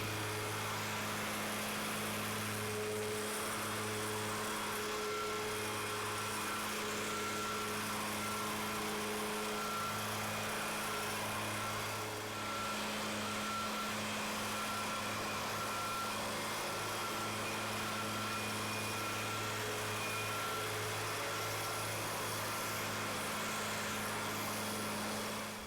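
Engine of a walk-behind floor machine with a broken handle running steadily, a continuous droning hum with tonal whine, loud and close throughout with no pauses.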